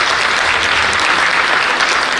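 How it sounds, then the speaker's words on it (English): A crowd of parents and fans at a youth basketball championship applauds steadily, a dense, loud wash of clapping that holds evenly throughout without voices on top. "can we give a round of applause for all the parents?"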